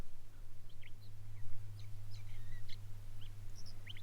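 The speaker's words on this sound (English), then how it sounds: "Love it when the birds are singing in the morning." Birds singing on a calm morning in the Sonoran Desert, with scattered short chirps and calls at a moderate distance over a steady low hum, no talking.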